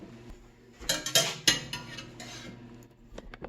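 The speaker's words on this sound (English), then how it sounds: "And then, oops, we're going to stir." Chex party mix with oyster crackers being stirred in a pan, giving scraping rustles and sharp clinks that peak midway and then settle into softer scraping. No one speaks.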